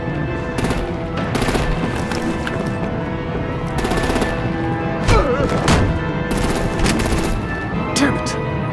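Gunfire in the Batman: The Enemy Within game, with bursts of automatic shots aimed at vehicles, steady over a loud background of in-game sounds and speech, with sharper cracks near the middle and the end.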